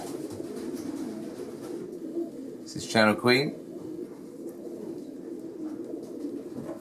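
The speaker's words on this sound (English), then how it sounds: "Top pair of pigeons in the country." Racing pigeons coo in a breeding loft, a brief soft warbling coo standing out midway while someone talks over low background noise.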